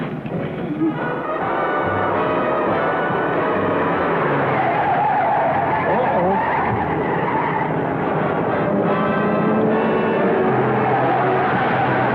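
A car speeds along in a chase scene from a 1948 comedy western, with a loud, sustained engine roar and tire noise that stay steady throughout.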